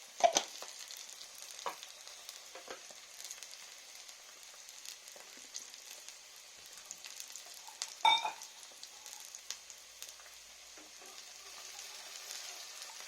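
Omelette chicken dosa frying in a pan, a steady soft sizzle running throughout with a few brief clinks or stirring taps, quiet and close, no talking.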